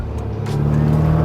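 A drift car with a quiet exhaust drives along with a steady, low engine drone, close and loud, holding an even tone throughout.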